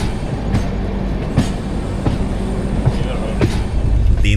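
Passenger train travelling past Deen Dayal Upadhyay station on a long run from Kolkata, a loud steady rumble with rhythmic clickety-clack of wheels on rail joints, heard from inside the carriage.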